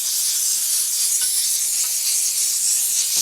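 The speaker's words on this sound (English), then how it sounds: "Time to steam clean the wheel. Get that last little bit of goop off of it." Steam cleaner blasting a Yamaha FZ600 motorcycle wheel, a loud, steady, close hiss of spraying steam that runs unbroken throughout.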